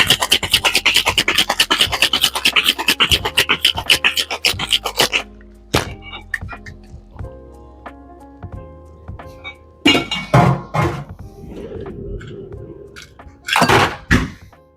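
Ice rattles hard inside a cocktail tin, dense rapid clattering for about five seconds, then scattered clinks and knocks of the tin being opened and handled.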